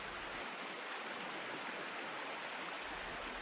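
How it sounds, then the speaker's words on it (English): A small stream flows steadily, its close, even watery rush running unbroken throughout with no voices. "A current as small as the one in this stream can be enough."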